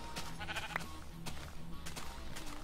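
A sheep in the video game Minecraft gives a short, faint bleat early on, mixed into a dense, noisy game soundscape with scattered clicks.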